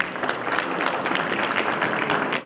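An audience at a Turkish teachers' symposium bursts into steady, dense applause welcoming a speaker to the platform, sustained clapping close and loud for a couple of seconds before fading.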